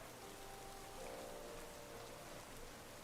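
Rain weather in a Pokémon VGC battle, summoned by Pelipper, falling as a steady, even hiss of raindrops that holds without a break, with faint tonal game sounds underneath.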